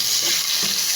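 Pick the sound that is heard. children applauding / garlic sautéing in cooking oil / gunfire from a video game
garlic sautéing in cooking oil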